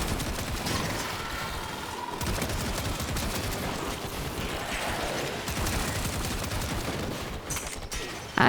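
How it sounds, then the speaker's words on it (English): Rapid gunfire in the video game Warframe, shots fired into the ground in a dense, continuous barrage that runs unbroken for several seconds at steady loudness. "I'm just shooting the ground."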